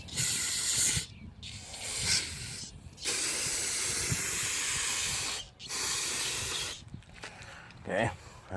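A garden hose sprays water to wash stuck mud off a concrete-leveling tool, in long hissing bursts that start and stop several times, loud and close.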